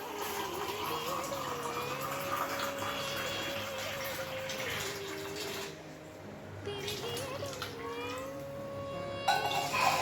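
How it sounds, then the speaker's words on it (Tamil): Water pours steadily into rice in a pot while mushroom biryani is cooked, a continuous close gushing stream with a tonal ringing, briefly easing midway and then resuming. "இப்போ வந்துட்டு அளவு தண்ணி ஊற்றிக்கலாம்"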